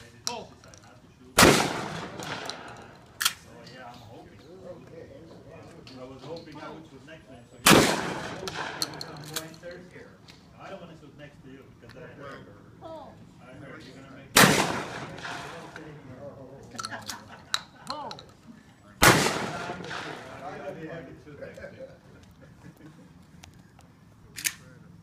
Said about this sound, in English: Shoot quicker, Julie.